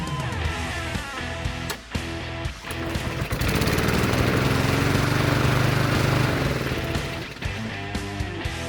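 Freshly serviced lawnmower engine with sharpened blade starts after a few sputtering pulls and settles into a steady, loud running drone nearby, no voices.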